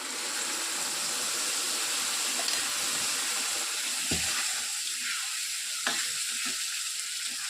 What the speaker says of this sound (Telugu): ఒక 2 సెకండ్స్ బాగా వేయించి మనం మిక్సీ పట్టేసుకున్నటువంటి ఈ టమోటా పచ్చడిని ఇందులోనికి వేసేసుకోవాలి.